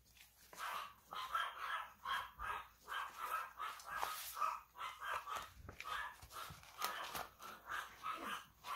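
Several household dogs bark steadily in repeated rhythmic bursts for the whole stretch, fairly distant and quiet indoors, with no voices over them.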